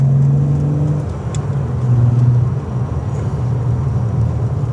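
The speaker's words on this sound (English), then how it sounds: "Gotta love a 12 valve VR6, absolutely love it. What a noise." A VW Golf Mk2 with a 12-valve VR6 engine rumbles steadily with a low, throaty drone, rising slightly around the middle before settling back to a sustained hum, with no voices.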